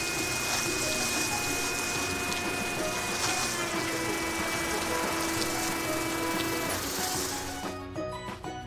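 In a cartoon car wash, spraying water rinses off soap bubbles with a continuous loud hiss over a pump-like drone and faint tones, then fades near the end.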